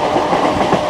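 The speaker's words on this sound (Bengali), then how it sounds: "দারুণ গতি ধরেছে লোকাল ট্রেন হয়েও।" A Digha-Howrah local train runs at high speed between Panskura and Mecheda, its carriage producing a loud, continuous rumble and rattle of wheels on track, heard from inside without talk.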